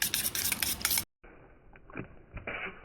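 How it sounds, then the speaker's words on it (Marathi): Egg for an omelette is stirred in a bowl with onion, green chilli, coriander and spices, giving brisk clinking scrapes, then a brief gap and quieter scraping and tapping. "त्यामध्ये कांदा हिरवी मिरची कोथिंबीर हळद चवीनुसार मीठ याच्यात आणि थोडीशी काळी मिरी पावडर घेतली ते सगळे मिक्स करूया"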